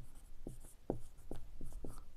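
Pen strokes on paper while a Class 7 math solution is written out by hand, a series of short close scratches in an irregular rhythm with no voice over them.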